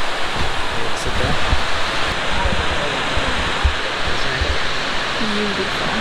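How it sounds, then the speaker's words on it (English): Water rushing in a stream beside a New York campsite, a steady broadband roar heard up close throughout, with a voice faintly under it. "Sit out here, listen to the water."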